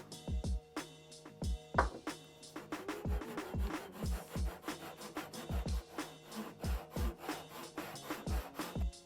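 A hand saw cutting a PVC lure blank along a marked line, close and steady, with rhythmic rasping back-and-forth strokes repeating about twice a second.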